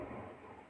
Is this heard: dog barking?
no